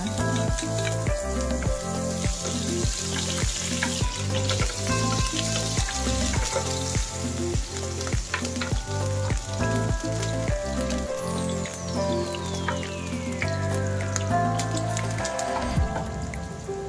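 Onion sizzling in a hot wok for vermicelli noodles, a steady loud crackle with a rhythmic pulsing beat throughout and a falling whistle-like tone near the end, no talk.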